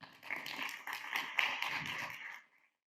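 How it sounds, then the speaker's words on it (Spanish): Audience applause at a seminar on industrialized social housing, a quiet, brief round of scattered clapping from a modest crowd that swells, holds steady for about two seconds, then dies away into silence. "Démosle un fuerte aplauso."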